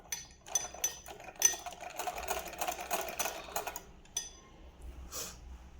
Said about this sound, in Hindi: वापस से सिलाई करेंगे इस पर